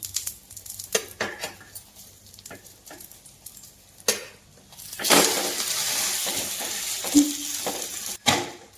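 A bread omelette is flipped in a frying pan over medium flame. Light clinks and taps of a spatula come first, then a louder burst of sizzling, with a few sharp metallic knocks against the pan.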